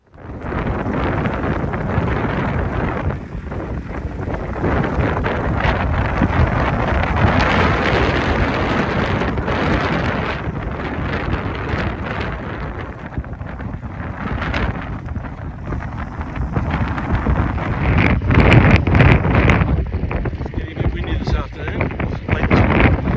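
Strong headwind and crosswind buffet the microphone while cycling the Mawson Trail from Quorn to Cradock, a steady loud roaring rumble across the whole stretch with gusty surges and no clear talk.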